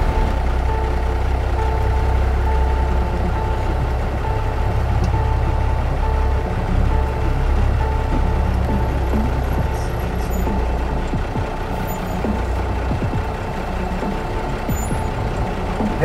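A military truck grinds along in low gear, its engine giving a loud, continuous, heavy rumble with no break throughout.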